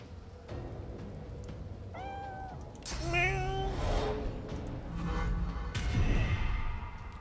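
A cat meows several times in the video game Divinity: Original Sin 2 as it burns, drawn-out plaintive cries amid crackling game effects and background noise, with a voice briefly heard.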